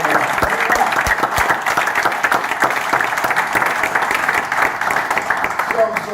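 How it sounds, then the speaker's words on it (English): A large audience gives a loud, sustained round of applause, dense clapping filling the room evenly from start to finish with a few cheers mixed in. "Give yourselves and your ministry and your minister a round of applause."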